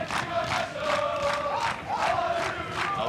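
A lively Philadelphia crowd cheers at an ultimate frisbee game, rhythmic chanting voices rising and falling in repeated loud waves from a cheering section in the stands.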